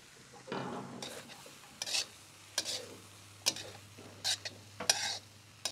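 A spatula scrapes and stirs cabbage and mixed vegetables roasting in a pan. Irregular bursts of stirring and clattering play over a quiet background hum.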